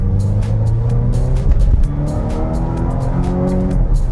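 A 2022 Volvo XC90 B6 with a 2.0 L supercharged engine of about 300 hp, driven in Eco mode, accelerates hard. Loud, close engine tone climbs steadily in pitch through successive gears.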